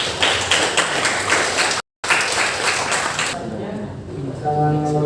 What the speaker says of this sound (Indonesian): Berikan tepuk tangan yang meriah untuk pasangan calon nomor 2.